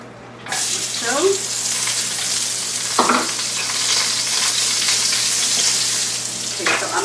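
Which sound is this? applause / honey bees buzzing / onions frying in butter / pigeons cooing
onions frying in butter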